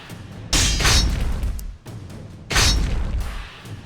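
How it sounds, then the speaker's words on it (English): An enemy hero casts a fire spell in King Arthur II: two loud whooshing booms, each a burst of flame about two seconds apart, fading into a rumbling tail. "The enemy hero is casting a spell. Fire!"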